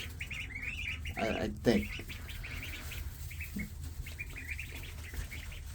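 Khaki Campbell ducklings give many high, thin peeps in quick scattered bursts, heard close over a low background hum, with someone speaking briefly in the middle.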